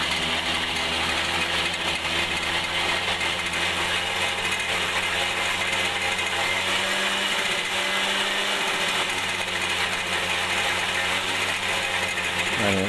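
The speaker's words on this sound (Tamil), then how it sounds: "அப்படியே கொஞ்சம் கொஞ்சமாக லூஸ் பண்ணி அந்த ஆர்பிஎம் வந்து அதிகமாக பாருங்கள்." A Suzuki Super XL motorbike engine runs steadily during carburetor RPM screw adjustment, a close, continuous mechanical drone whose pitch shifts slightly partway through as the revs change, with no talking.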